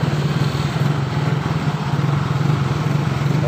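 A Yamaha Mio scooter engine runs steadily at idle after a starter repair, giving a close, continuous, even putter with a constant low drone and no talking.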